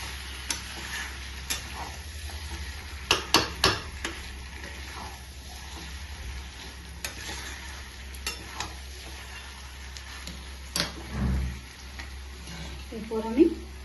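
Mutton kosha with coriander leaves sizzling and frying in a pan while being stirred, with a soft steady hiss under scattered spoon clanks and scrapes against the pot, plus a few louder knocks.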